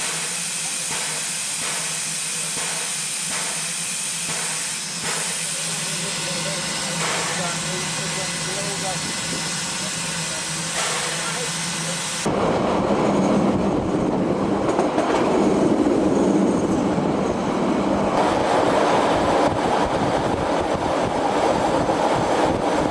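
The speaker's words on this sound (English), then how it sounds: "the passengers can once again stretch their legs before the train begins its dramatic run down the Otira Gorge" A steam train runs down the Otira Gorge: the first half is a steady rumble with rhythmic clatter, then a sudden shift to a louder, broader roar of hiss and wheel noise that continues to the end.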